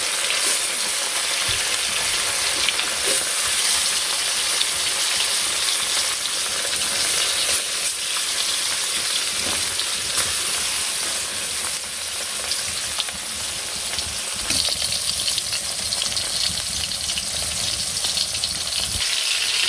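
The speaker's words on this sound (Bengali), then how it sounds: "এগুলো তো ছোটো ছোটো মাছ, অনেক নরম, সেই জন্য ভালো করে ভাজতে হবে" Small soft fish fry in hot oil in a village kitchen, a loud continuous sizzle and crackle right up close, steady throughout with occasional spatter.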